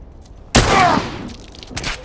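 A single sharp rifle shot from the video game The Last of Us cracks loudly with a trailing echo, followed by a softer second report.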